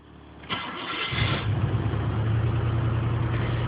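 A 1984 Cadillac's 4.1 V8 cranks briefly, catches with a burst, then settles into a steady, even idle that stays loud and close for the rest of the moment.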